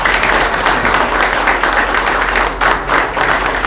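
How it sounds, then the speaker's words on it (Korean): Steady, dense applause from a crowd of party members at a Democratic Party by-election rally in Ulsan, continuous and loud throughout with no talk over it. "박수 한번 해주십시오."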